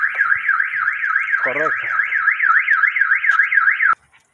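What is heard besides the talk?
car alarm going off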